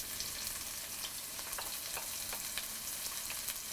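Crushed shallots frying in hot coconut oil in a pan, a steady close sizzle with occasional sharper crackles and pops running throughout.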